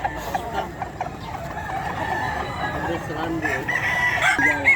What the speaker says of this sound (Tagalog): Mga stag na manok ni Boss Randy.